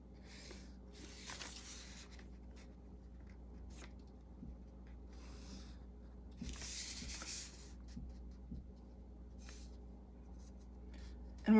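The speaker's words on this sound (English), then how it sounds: "I'm just like marking the paper how far I'm going" Pencil scratching and marking on paper while a cube is drawn, with quiet intermittent strokes and brief bursts of scribbling over a steady low room hum.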